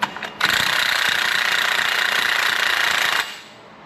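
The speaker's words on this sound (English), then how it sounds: "It's smearing all the lube off the threads as the nut comes off the stud." Pneumatic impact wrench spinning a nut off a wheel bearing stud on a Ford: a brief blip, then about three seconds of loud, continuous rattling buzz that cuts off abruptly.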